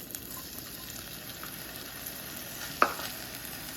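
Onions and garlic frying in a pan give a steady, moderate sizzle with one sharp clink of a utensil partway through, and no voices.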